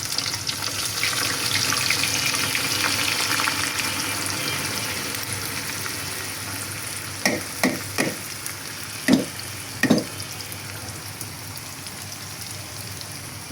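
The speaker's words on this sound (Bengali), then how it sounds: "এখানে তেল গরম করে নিচ্ছি, আর এই যে পেঁয়াজ বেরেস্তা করব।" Sliced onions fry in hot oil for beresta with a steady, rain-like hiss and sizzle up close, joined later by several distinct knocks and scrapes of stirring.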